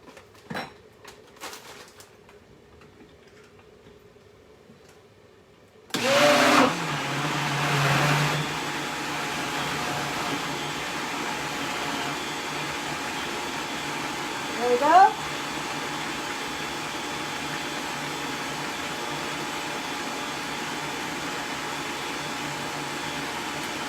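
An electric blender whirls kugel ingredients, including salt, in a home kitchen, starting abruptly after a few quiet seconds and running as a steady motor whine for the rest of the clip.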